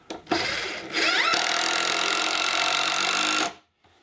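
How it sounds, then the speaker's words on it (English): A power screwdriver drives screws into a roughly 12-inch-wide board for a heavy-duty sawhorse, a short burst followed by a long, steady whining run of about two and a half seconds that stops abruptly. "I'm screwing down a 12-inch wide board, thereabouts."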